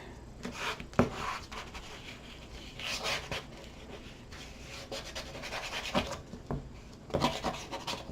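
A squeegee rubs and scrapes over a surface in short, uneven strokes, close and moderately loud, with a few sharper scuffs and pauses between passes.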